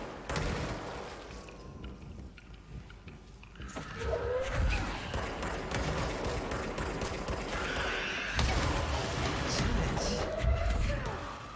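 Explosions of kamikaze enemies in the game Control, heavy rumbling blasts and crackling bursts building in loudness and continuing through the scene amid dense combat noise.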